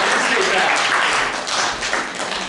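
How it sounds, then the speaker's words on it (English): Audience applause at a holiday-themed talk, a dense steady patter of many hands clapping at close range for the whole stretch, loud and continuous without a break. "This whole applause is for you."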